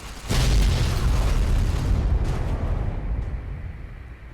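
A warhead detonation in Fallout: New Vegas booms out as one loud blast with a heavy low rumble that slowly decays over a few seconds, with no voices.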